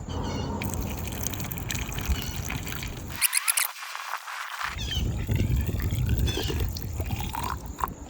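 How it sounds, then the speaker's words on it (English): Water pours and splashes steadily into the washer fluid reservoir of a BMW i8, with a short gap partway through where the flow breaks off before resuming. "I'm gonna pour some water in there."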